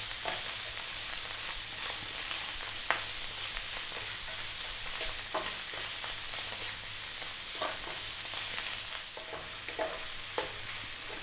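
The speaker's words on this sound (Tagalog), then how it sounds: "Gigisahin ko lang po siya ng mga 3 to 4 minutes" Chicken hearts sautéing in a pan, a steady sizzle broken by repeated scrapes and clinks of a spatula stirring, close and moderately loud with no talking.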